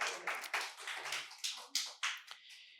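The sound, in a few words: loud applause for correct quiz answer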